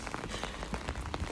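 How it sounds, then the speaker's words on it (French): Rain falls outdoors on a day in the United Kingdom. A soft, steady patter of drops spreads evenly across the whole stretch, fairly quiet and with no voices. "Aujourd'hui, il pleut"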